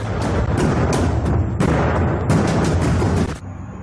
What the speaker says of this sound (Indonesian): Kemudian meriam perkasa ditembakkan